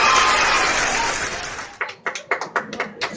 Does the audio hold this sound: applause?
yes